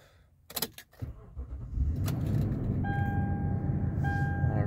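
A 2016 Toyota Sequoia starts up: a few clicks and a brief crank, then the engine catches and settles into a steady low idle, with chimes sounding over the running motor inside the cabin.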